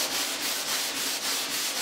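Sandpaper scuffs rhythmically across the epoxy-coated hull of a small wooden PT11 boat to prepare it for paint, a close, loud rasping stroke repeating about every quarter second.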